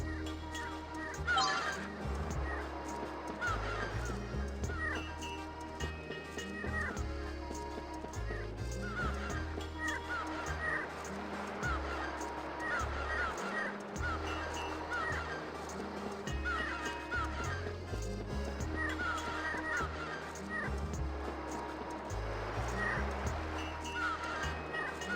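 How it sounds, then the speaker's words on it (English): Seagulls call by the sea in Grandia HD Remaster, with repeated bright squawks recurring through the whole stretch over background game music. "Okay, well, we can hear seagulls."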